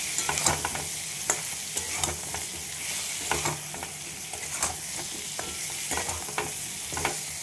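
Sweet potato and spices sauté in a pan, a steady sizzle broken by repeated scraping stirs at an uneven pace, close and moderately loud with no voices.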